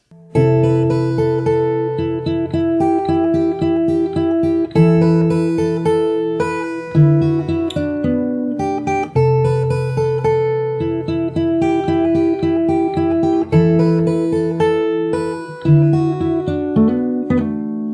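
Fingerstyle acoustic guitar plays a verse with steady picked chords and melody notes, close and continuous with no voice.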